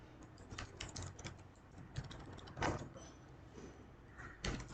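Code being typed on a computer keyboard, with quiet irregular key clicks in uneven bursts and a few louder taps, heard alone in a quiet room.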